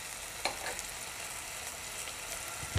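Onion, tomato, turmeric and garam masala sautéing in a pan, a steady soft sizzle with a couple of light spoon scrapes, moderately quiet and close with no talking.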